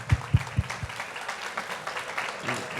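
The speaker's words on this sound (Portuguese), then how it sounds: "Vou pedir palmas para os nossos convidados." Audience applause for guests at a talk event: a few low thumps at the start, then a brief, moderate spatter of crowd clapping that fades quickly.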